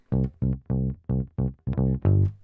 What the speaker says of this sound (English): So this is what our first bass line sounds like.